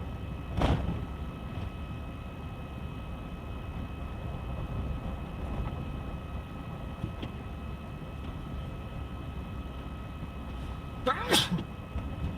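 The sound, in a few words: sneeze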